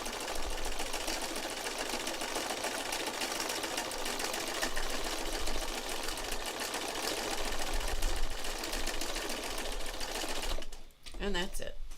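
A sewing machine stitches fabric in a long continuous whirring run that stops near the end, with a voice talking over it.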